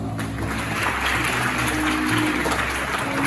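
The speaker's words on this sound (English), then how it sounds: "Kindly give him a huge round of applause." Audience applause at a school investiture ceremony in Bhopal, steady and dense throughout under a low hum of music or room noise, with no clear talk.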